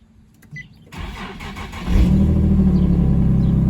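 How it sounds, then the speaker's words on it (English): Nissan 370Z engine starting up: a quiet click and brief starter crank lead into the engine catching, then a loud, steady idle rumble that holds close and alone to the end. "start up my car"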